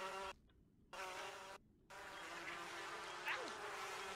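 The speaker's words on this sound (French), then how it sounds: "Un essaim d'abeilles fonce." A swarm of bees in a video game jungle gives off a steady, dense insect buzz that runs through the whole stretch, briefly cutting out twice near the start before resuming, with no talk over it.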